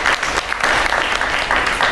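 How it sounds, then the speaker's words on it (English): Studio audience applause at a televised business segment on Godrej Capital, a dense steady wash of many hands clapping at close range with no voices over it. "A big round of applause here."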